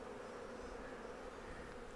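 Agitated honeybees buzz during a brood inspection of a Flow Hive, a faint, continuous droning hum with no pauses.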